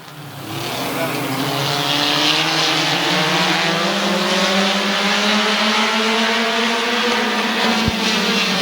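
A pack of race cars at Midvale Speedway roars off at the start of an 8-lap heat race, engines swelling loudly together and holding a sustained, rising and shifting drone, close and with no talk over it.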